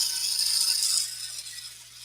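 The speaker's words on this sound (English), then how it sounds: "That sound you're hearing is because I'm rubbing the spring on the back of the saw" The spring on the back of a scroll saw being rubbed by a wooden workpiece, producing a thin, steady metallic scraping rattle that fades slightly after the first second, close by and alone.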